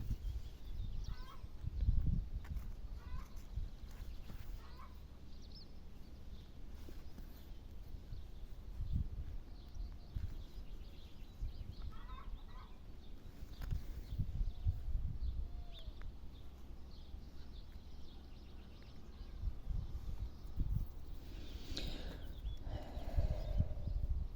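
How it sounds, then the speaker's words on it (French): Small birds chirp and trill outdoors in a garden, with scattered short calls over steady low background noise and occasional nearby rustling and knocks. "Son extérieur, des petits oiseaux."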